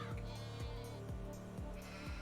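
Goats in Farming Simulator 25 bleat over and over in a loud, regular series of wavering, drooping cries about every half second, set over a steady game ambience.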